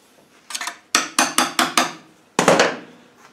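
Sharp metallic blows ring out as a gearbox casing is worked off its dowels during an R380 gearbox overhaul, a quick pair followed by five evenly spaced strikes and one last heavier knock, loud and close.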